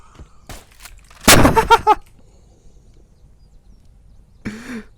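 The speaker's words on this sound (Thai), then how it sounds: "เอ้ายิงทำไมเสียงดัง" Loud gunshots from the video game Unturned: a few sharp bursts near the start, one heavy blast around the middle, then quiet with a brief later sound, no talk.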